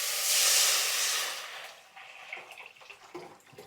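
A broad, steady hiss of escaping steam from a pressure cooker cooking rice swells up and then fades, leaving soft clatter and faint kitchen noises behind it.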